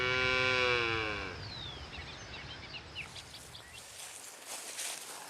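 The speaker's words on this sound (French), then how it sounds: "Alors les vaches." Cows on a farm near Nantes let out a long, loud low moo at the start, followed by quieter outdoor ambience with scattered bird chirps.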